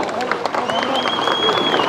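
A crowd at a political event applauds N. Mahesh, the Kollegal MLA, as he joins the BJP, with continuous close clapping mixed with crowd noise and voices.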